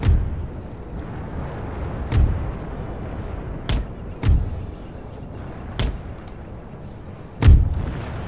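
Mortar artillery fire in the video game Empire: Total War: six separate booming shots with sharp attacks at irregular intervals, some louder and closer, each trailing off over a faint background.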